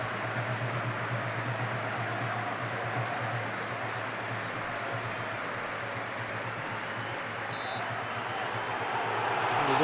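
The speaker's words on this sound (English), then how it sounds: "Big round of applause, both sets of fans" Steady broadband applause from football fans of both Sheffield Wednesday and Sunderland fills a stadium for the full stretch, a dense continuous wash of clapping with crowd murmur, swelling slightly toward the end.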